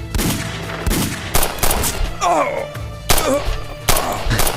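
Battle gunfire in a Hindi-dubbed TV drama: loud, close bursts of rapid shots in quick succession, with metallic impacts and a brief voice between volleys.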